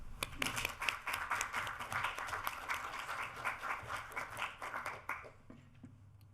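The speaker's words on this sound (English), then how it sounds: "So a big round of applause, please." Audience applause for a speaker at a science and engineering talk, a modest burst of clapping from a small room, fairly faint and uneven, tapering off near the end.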